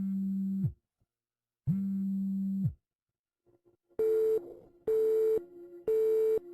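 Phone call tones: two long steady ringback buzzes with a gap, then three shorter, brighter, harmonically rich ring bursts repeating in rhythm, clear and close with no voices.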